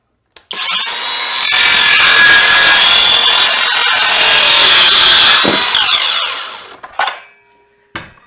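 An Ecarke cordless brushless 7-1/4" circular saw, fresh out of the box and running on a Makita-compatible 18V battery, rips through wood in one loud, sustained cut of about six seconds. The motor then winds down, followed by a couple of short knocks.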